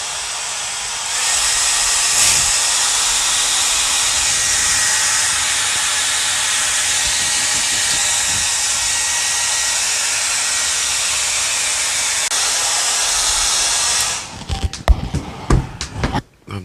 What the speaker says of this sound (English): Hair dryer, here we come.